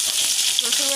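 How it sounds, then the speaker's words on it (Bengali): Bay leaf, cumin and garlic paste frying in hot oil for a fish and potato curry, a steady close hiss of sizzling with a brief crackle partway through and no voice. "এই তেলে আমি তেজপাতা দিলাম, জিরা দিলাম, রসুন বাটা"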